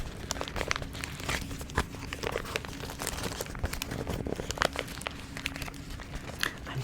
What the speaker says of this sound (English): The paper sounds are so soft and cool.